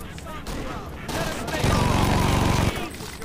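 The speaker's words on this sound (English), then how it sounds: "How do you like getting shot?" Gunfire in the video game Saints Row 2, with a rapid burst of repeated shots over about a second in the middle, set in busy game noise and voices.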